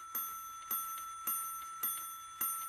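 A cartoon clock chiming twelve o'clock: five evenly spaced, bright metallic bell strikes about half a second apart, each decaying before the next, heard alone and fairly faint.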